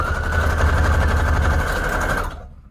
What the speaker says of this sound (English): I'm going to do a straight stitch with this. Make it as long as possible.